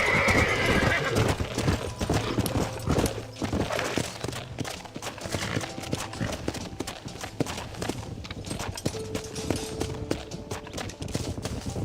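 Hooves clip-clop in a fast gallop while horses neigh and whinny in Red Dead Redemption, loud and busy, with game-like effects layered in.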